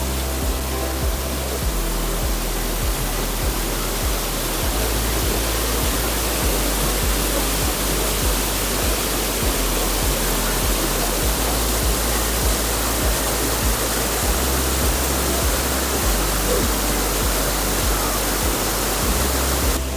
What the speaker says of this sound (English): This is the Lumsdale Falls, power of water heading down the valley, which feeds these mills.